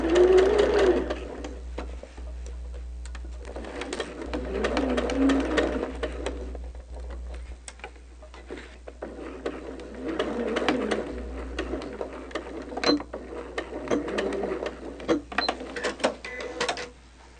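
A sewing machine stitches a mitered quilt border in short bursts of fast, close mechanical whirring, separated by pauses, with faint bird cooing in the background.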